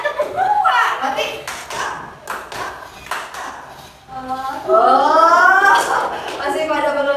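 Several people clap a quick two-beat pattern in a classroom, brisk bursts near the start and middle with a teacher's voice and some laughter around them, fairly loud and close.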